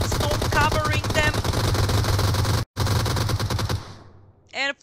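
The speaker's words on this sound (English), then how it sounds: "And full squad shooting them" Dense automatic gunfire crackles from a full squad firing in PUBG Mobile, rapid overlapping bursts that cut briefly, resume, then trail off near the end, while a voice shouts over the shooting.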